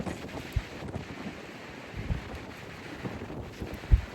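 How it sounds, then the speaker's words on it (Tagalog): Strong wind buffets the microphone in a steady roar, with occasional louder low thumps from gusts; no voices. "Lakas ang hangin."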